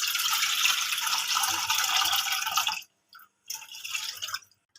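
Milk poured into a pan for semolina halwa makes a steady splashing, running-liquid sound for nearly three seconds, then stops, with a few softer intermittent pours or drips afterward.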